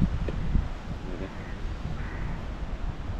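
Steady outdoor wind roars and buffets against the microphone while a light stand is tested on location in a 40 mph gale, a constant broadband rush with no talk.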